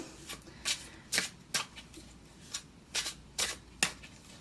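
A new 8th House Tarot deck being shuffled, with several crisp riffling bursts of cards at an uneven rhythm, close and fairly quiet, and no voices.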